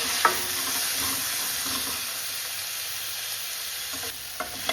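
Onion frying in a pan for mung and masoor lentil dal, stirred occasionally: a loud, steady close sizzle with a few faint utensil knocks and no speech.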